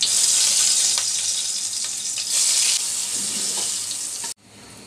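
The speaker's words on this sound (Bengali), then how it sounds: "তারপর বেগুনগুলো একটু ভেজে নিব।" Eggplant pieces coated in salt and turmeric fry in hot oil with a loud, steady, close sizzle for about four seconds, then the sound cuts off abruptly and only quiet background remains.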